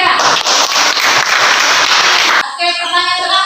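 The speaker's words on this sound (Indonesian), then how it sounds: "Oke, tepuk tangan untuk Audra." Students in a classroom clapping together, a dense burst of applause that stops abruptly, followed by someone speaking.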